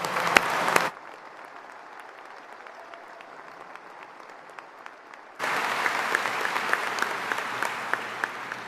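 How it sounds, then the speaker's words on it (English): Audience applause for the band at the 2022 MTSU convocation comes in bursts of dense clapping, a brief loud patch, then a quieter lull of scattered claps, before a full round of clapping swells again. "Let's give them a round of applause."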